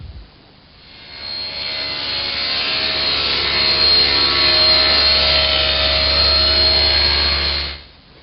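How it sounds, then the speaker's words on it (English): A homemade panel cutter saws a strip from a large sheet in one loud, steady whining run that spins up, holds for about seven seconds and winds down. "I want to cut one strip out of this sheet big enough for the base of our model."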